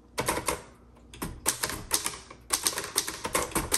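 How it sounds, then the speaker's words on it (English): Keys clacking on a 1954 Hermes Rocket manual typewriter, struck with a heavy hand in close, loud bursts of rapid strokes separated by short pauses. "you need to pound these keys pretty well"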